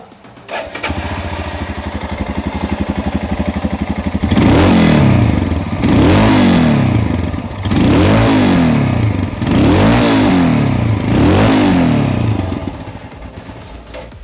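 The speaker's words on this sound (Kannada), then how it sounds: "ಇದು ನಿಮಗೆ ಇವಾಗ ಒಂದು ಎಕ್ಸಾಸ್ಟ್ ನೋಟ್ನ ಕೇಳಿಸ್ದೆ" A Royal Enfield Himalayan Scram 411 motorcycle starts and idles with a thumping single-cylinder exhaust note, then revs up and falls back several times in a regular rhythm, loud and near with no talk.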